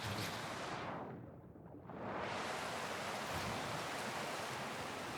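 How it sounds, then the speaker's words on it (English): A waterfall in the video game Dying Light: The Beast gives a steady broadband roar of rushing water that eases briefly and then returns at full strength. "you want to go to the bottom of this waterfall"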